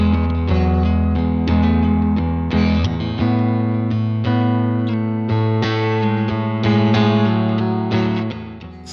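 A Boss RE-202 Space Echo tape echo pedal, modelled on the 1974 Roland Space Echo 201, processes a distorted, sustained instrument tone with repeating, overlapping echoes, loud and continuous, with no talking.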